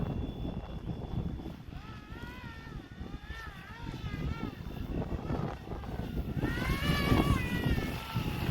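The tail motor of a Flywing Airwolf RC helicopter whirs continuously with rising and falling pitch, moving about over steady wind noise on the microphone.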